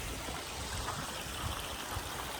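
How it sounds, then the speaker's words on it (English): A stream flowing beside a hiking trail in Yosemite, a steady broadband rush of water running evenly throughout with no voices. "Coming across quite a few streams actually."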